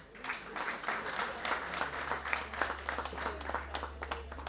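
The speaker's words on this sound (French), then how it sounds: "Mesdames et messieurs, applaudissements s'il vous plaît." The audience at a media observers' awards ceremony in Yamoussoukro breaks into applause, rising quickly to a steady patter of many hands over a low hum, fairly distant in the hall.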